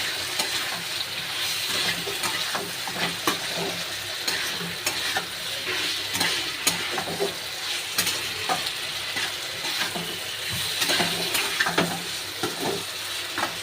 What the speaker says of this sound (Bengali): দিয়ে একটু কষে নেব